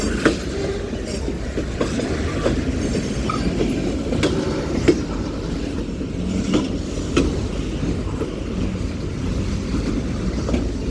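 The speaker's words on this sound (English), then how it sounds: "Union Pacific mixed freight train coming off the Huey P." A Union Pacific mixed freight train rolls past in Metairie, Louisiana, coming off the Huey P. Long Bridge: a continuous close rumble of wagons with repeated clattering wheel knocks and rail clicks, no voices.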